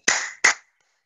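Two loud, sharp hand claps close by, part of a forceful clapping exercise in a yoga session, each ringing briefly before silence.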